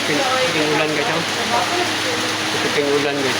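Heavy rain pours steadily on a surface, a loud continuous hiss that fills the whole stretch, with voices talking over it.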